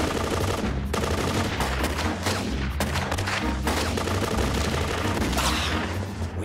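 Rapid automatic gunfire from an animated adventure series shootout, loud and continuous with dense overlapping bursts and booms throughout, with no clear speech.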